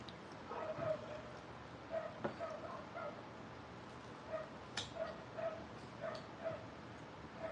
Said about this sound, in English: Got the neighbor's dog barking in the background.